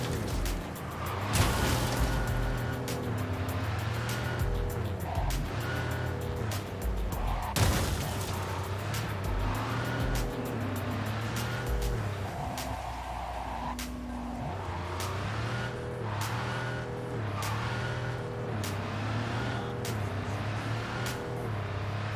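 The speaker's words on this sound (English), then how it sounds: "Does the car sound like it's honking to you?" A car engine in the Cyberpunk 2077 video game, droning steadily and loudly throughout with rising and falling revs as gears shift, plus occasional tire squeal and skidding, with no talking.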